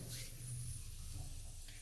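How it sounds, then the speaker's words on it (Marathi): Mustard seeds crackle in about two ladles of hot oil at the start of a radish vegetable dish, giving a faint, steady sizzling hiss with no talking. "मस्त छान अशी मोहरी तडतडून द्यायची."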